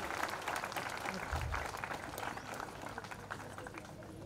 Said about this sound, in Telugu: ఒకసారి గట్టిగా చప్పట్లతో పెద్ద ఆయన మన వేది మీదకి ఆహ్వానిస్తున్నాం